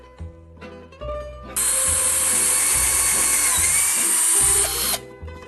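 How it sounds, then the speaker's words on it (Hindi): An electric drill fitted with a larger bit bores a hole for passing wire: a few short motor starts, then a loud sustained high whine for about three seconds before it winds down, close and alone. "तीसरा होल हमें बड़ा करना है वायर को पास करने के लिए, तो उसके लिए बिट चेंज कर देते हैं। हमने बड़ा बिट लगा दिया।"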